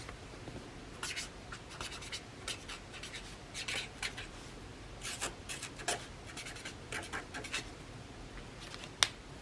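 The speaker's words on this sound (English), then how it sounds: "Oh well, maybe I'll write on here, Amanda Gorman." Pen scratching and scribbling on a junk journal page, a quiet run of short strokes and scrapes close by, with small taps between them and no talking.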